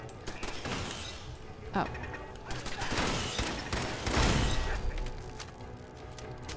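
Automated turrets fire in Fallout 4, a dense crackle of rapid gunfire and booms that fills the whole stretch and swells around the middle, with a player's brief exclamation over it.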